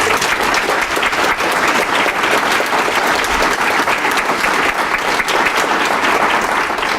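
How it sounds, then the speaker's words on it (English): Sustained, dense applause from a large crowd at a school board meeting, loud and steady throughout with no pauses. "if you want to give them a round of applause"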